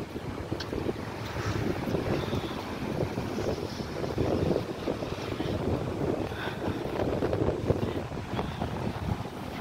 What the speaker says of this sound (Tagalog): maalon ngayon ang dagat kasi mahangin